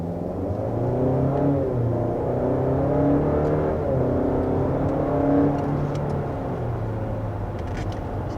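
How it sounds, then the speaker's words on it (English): The engine of a 2021 Buick Envision Avenir SUV pulls through repeated acceleration, its pitch climbing in steps as the gears shift, heard steadily from inside the cabin. "there's your initial acceleration with this all-new Envision"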